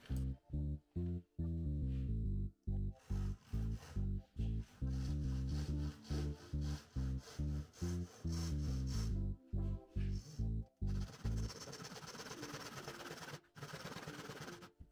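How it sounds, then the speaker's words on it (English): A handsaw cuts notches into long wooden boards by hand in steady rhythmic strokes, each pass a rasping scrape, close and continuous with short pauses between strokes and a brighter, hissier stretch toward the end. "I'm marking the counter notches in the long boards where the cross pieces then will sit"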